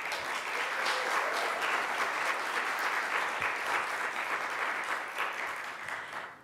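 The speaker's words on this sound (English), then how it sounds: "please give them a warm applause for their work." Audience at a Hispanic Heritage proclamation ceremony gives sustained applause for the event organizers, a dense steady wash of clapping from many hands that holds for several seconds before tapering off at the end.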